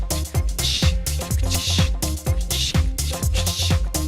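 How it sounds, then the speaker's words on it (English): House music groove with reverb-washed hi-hats ticking over a steady four-on-the-floor kick and bass, looping tightly and fairly loud with no talking. "Listen just the hi-hats and see how much more groove everything has now that it's being glued by the reverb."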